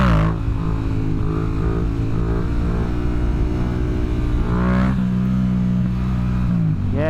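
A diesel vehicle engine runs nearby with a steady low rumble and strong harmonic drone, briefly rising in pitch around the midpoint and again at the end as it revs.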